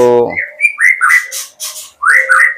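A white-rumped shama delivers a run of clear, varied whistled phrases up close after a brief low tone, bright and loud with short pauses between notes.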